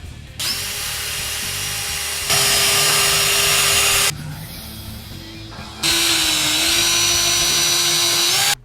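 A power tool cuts a hinge into a bear bait barrel with a loud, high, whining buzz in two long sustained passes, and a short quieter pause between them.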